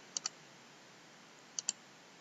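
Computer mouse clicks in a quiet room: two quick pairs of sharp, faint clicks about a second and a half apart, with near silence between.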